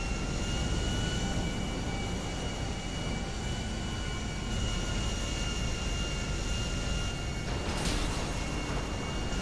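An airplane in the GTA V video game gives a steady, loud engine roar that holds level and unbroken throughout, with no talking over it.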